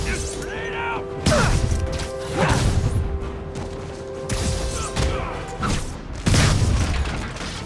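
Grenade blasts from Marvel's Spider-Man gameplay: repeated heavy booms and crashing impacts, a few seconds apart, loud and close, over a sustained musical drone with some mechanical clatter.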